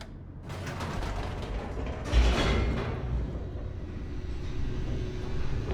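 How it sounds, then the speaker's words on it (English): A lift descends in The Stanley Parable: Ultra Deluxe, with steady mechanical creaking, ratcheting and gear rumble. A louder clunk comes near the start, then a continuous hum and rattle carry on to the end, with no voices. "The elevator raced downward, plummeting towards an unknown fate."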